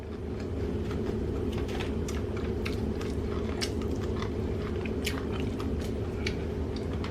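Someone biting and chewing a crunchy taco-seasoned oven-fried chicken wing close up, repeated crisp crunches in an uneven rhythm over a low steady background hum.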